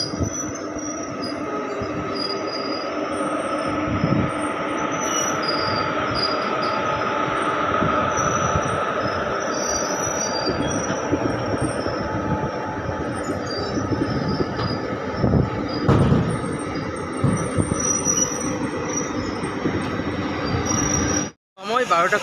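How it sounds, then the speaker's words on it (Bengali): The 15722 Paharia Express rolls into the platform at Digha station, a long steady rumble of wheels with metallic squeals and clatter, heard from on board, with faint voices underneath. "ট্রেন ঢুকছে দীঘার প্ল্যাটফর্মে"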